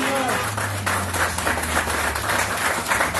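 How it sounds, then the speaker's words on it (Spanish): Church congregation clapping in praise during a sermon, a short burst of applause mixed with voices and a low background hum. "Alguien le da un aplauso al Señor por esta palabra."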